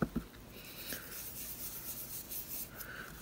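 Coloring a die-cut card with coral reef ink, soft swishing and rubbing strokes of an applicator across paper, close and faint, repeated in a loose rhythm.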